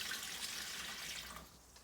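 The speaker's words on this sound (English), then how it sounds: "I'm just going to pour it on there." Warm avocado dye liquid poured onto paper, a brief continuous splashing pour that holds steady, then thins out and fades near the end, with no voices.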